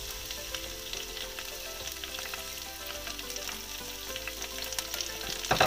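Mint leaves frying in hot oil in a covered pan, with a steady, close crackling sizzle that swells louder toward the end.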